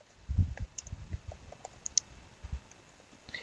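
Someone types on a computer keyboard at close range, a quick, uneven run of light clicks and soft key thumps in a quiet room.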